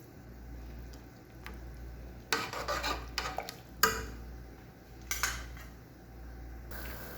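A spoonful of ghee going into a cooking pot, then a metal spoon stirring and scraping against the pot in a few short, clattering bursts over a low steady hum, with no one talking.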